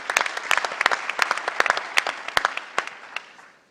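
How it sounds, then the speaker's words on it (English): A conference audience gives a short round of applause: dense, crisp clapping from many hands that stays fairly loud, then thins and fades toward the end. "Let's have a round of applause for them."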